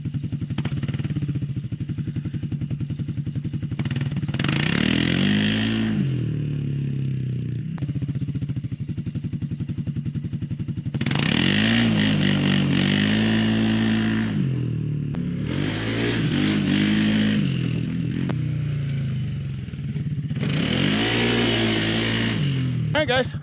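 A Can-Am Outlander 700 ATV revs hard in three separate bursts as its tires dig into garden ground. Each rev rises and falls loud and close, and a steady engine idle sits underneath with voices speaking over it.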